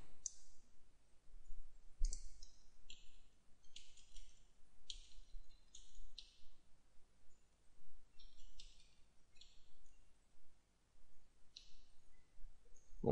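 Computer keyboard keys clicked during text-mode initial setup of CentOS 5.6, a string of sharp, close, quiet taps in irregular bursts separated by brief pauses.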